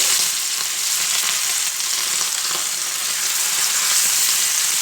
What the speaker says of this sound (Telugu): నేను చేపలు వేసుకుంటున్నానండి.